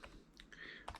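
Keys on a computer keyboard are tapped in a short burst of quick, close clicks while a new method name is typed in, with a faint room hum underneath.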